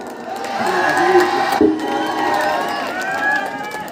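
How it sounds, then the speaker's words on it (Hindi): A crowd of schoolchildren cheering and shouting at a boys' under-19 zonal chess tournament prize distribution, a loud continuous wash of young voices with whoops, under only faint clapping. "जोरदार तालियां बेटा।"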